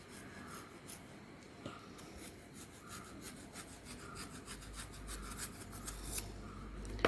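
A knife scrapes and rasps steadily along the tough green outer rind of a watermelon, a continuous close rubbing and cutting sound being pared off for pickle, with no talking.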